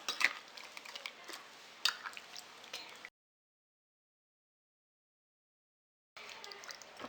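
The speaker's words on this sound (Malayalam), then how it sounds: "ഇതിനി ചിക്കനിൽ എല്ലായിടത്തും എത്തുന്ന വിധത്തിൽ നല്ലപോലെ മിക്സ് ചെയ്തെടുക്കണം" Chicken pieces being mixed by hand with a tandoori marinade and oil for biriyani, giving soft, wet squishing and slapping in short bursts, a three-second pause of silence, then more squelchy mixing.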